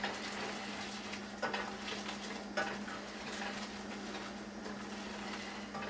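Food being stirred in a pot while cooking Persian rice: soft scraping strokes and a couple of light utensil knocks over a steady low sizzle and a faint hum, fairly quiet and close.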